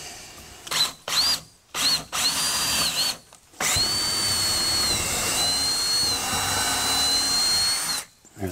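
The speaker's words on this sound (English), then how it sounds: "So we're gonna get our first drill." A power drill whines in short bursts, then runs in one long steady drive into a garage workbench, high-pitched and close, with brief pauses between pulls and no talking.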